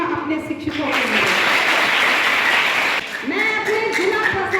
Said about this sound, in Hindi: जोरदार तालियां अपने शिक्षकों के लिए।